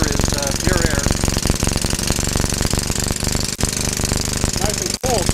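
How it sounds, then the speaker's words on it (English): An engine said to run on water as fuel revs loudly with a harsh, rapid knocking clatter close by, steady throughout with a couple of brief dips, while people talk over it. "Okay, rev it. You can breathe the exhaust."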